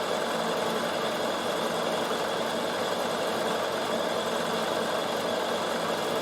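A Bernina sewing machine runs steadily on decorative stitch number 309, a cross-stitch-like pattern, working wool appliqué for a draught stopper; a continuous close, even mechanical whir with no pauses or voices.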